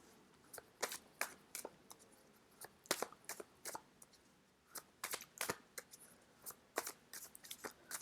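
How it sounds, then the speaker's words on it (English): Tarot cards are shuffled, quiet crisp riffles and snaps at an irregular pace, close but faint, with no voices. "I'm just going to shuffle as I talk"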